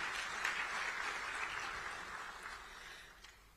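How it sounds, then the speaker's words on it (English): Faint, distant applause from a large hall audience at an emergency summit of heads of state, a soft continuous wash of clapping that slowly thins out. "Shall we applaud for the heads of state?"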